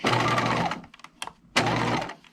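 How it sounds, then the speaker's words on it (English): Sewing machine running a stitching pass about 1/8 inch from a seam line on a removable collar, two sustained bursts of whirring split by a short pause with small clicks, close and steady. "you're stitching about 1/8 of an inch away from the seam line here"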